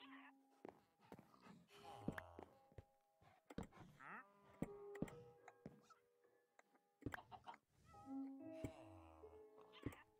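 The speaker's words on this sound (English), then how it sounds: "I just want to get this cat." A cat in the Minecraft Skyblock video game meows repeatedly in drawn-out, whiny calls, close and fairly loud, mixed with sharp clicks and thuds and some talk.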